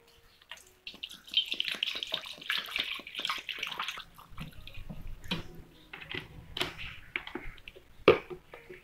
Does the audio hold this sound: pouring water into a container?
yes